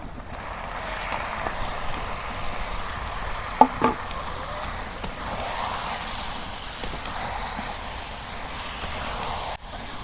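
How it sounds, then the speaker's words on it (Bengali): Marinated beef dropped into hot oil with browned fried onions for beef biryani sizzles steadily and fairly loudly, with a few clinks of stirring and a brief sharp knock near the end. "এখন আমি মাংস যে আমি মশলা দিয়ে মাখে রাখছিলাম, এখন আমি দিয়ে দিই বাগার।"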